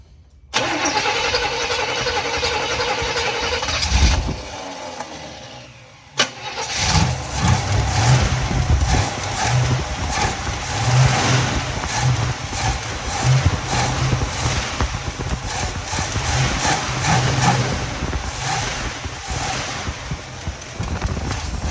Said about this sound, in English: I can already hear a header leak on the driver's side.